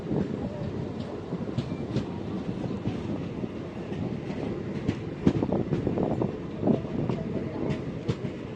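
A passenger train runs from Agra Cantt toward Jhansi, heard from on board as a continuous rumble with rhythmic wheel clatter and occasional clicks and squeaks, steady and fairly close throughout.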